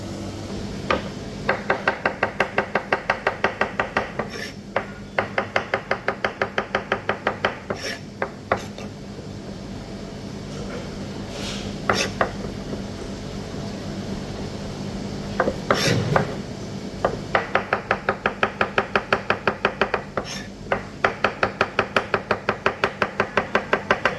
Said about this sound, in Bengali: আমি এখন মাশরুমগুলো কেটে ফেলছি